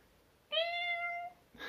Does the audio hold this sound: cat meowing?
yes